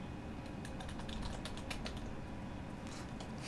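Computer keyboard typing during a Battlefield 3 closed beta match, a quick run of light clicking keystrokes in irregular bursts, close up over a steady background of game noise, with no one speaking.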